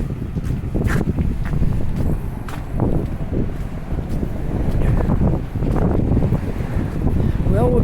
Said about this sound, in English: I wouldn't be surprised there's wind blowing up that way.